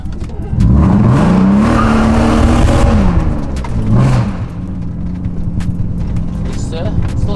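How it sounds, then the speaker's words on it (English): A BMW E36 328i with an M52 engine and straight pipes does a burnout: a loud revving engine climbs and holds a raspy drone while tires squeal, then drops back to a rough idle, with voices briefly heard over it. "Let's see if we can do a little burnout."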